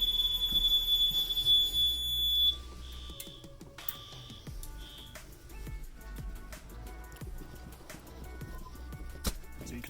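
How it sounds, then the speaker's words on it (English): A shrill fire alarm horn sounds steadily for a couple of seconds, then cuts off as it is reset, giving way to sparse clicks and intermittent beeps. "demonstrate how the horn strobe deactivates"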